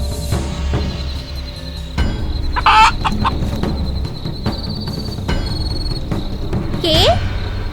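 Cartoon chickens cluck and squawk in short bursts over a busy animated soundtrack, with a couple of louder sharp cackles standing out near the end.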